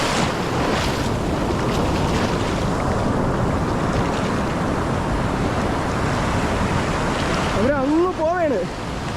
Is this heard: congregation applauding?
no